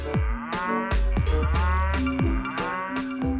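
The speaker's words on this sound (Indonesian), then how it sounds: "ini sapi berat" Cows moo repeatedly, several deep, drawn-out calls overlapping one another in a loud, continuous chorus with no talking.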